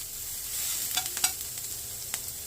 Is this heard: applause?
no